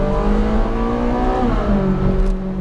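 Ferrari 458 Speciale Aperta V8 in race mode revving hard from inside the car, a loud steady engine drone with rising pitch and an abrupt, savage gear change partway through, then climbing again.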